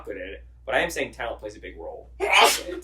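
A single loud, breathy sneeze bursts out near the end, right after a stretch of conversational talk.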